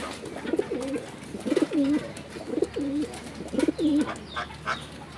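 A male pigeon coos in four rhythmic, throaty rolling phrases, close and clear over quiet background, with faint other sounds toward the end.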